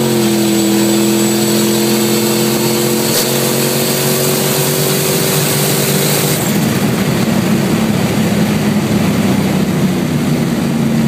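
A car is driven flat out in first gear, its engine roaring loud and close and climbing steadily in pitch before an abrupt shift midway into a broader, rougher drone.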